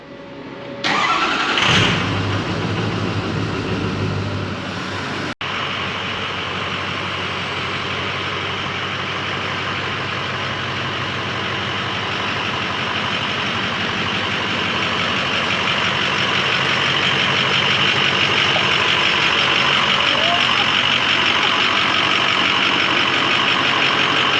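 A dually pickup truck engine cranks and catches near the start, then settles into a steady, loud idle that runs on alone with no talking.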